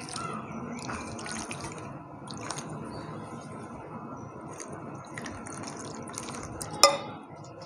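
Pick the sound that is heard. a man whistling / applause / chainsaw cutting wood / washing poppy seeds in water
washing poppy seeds in water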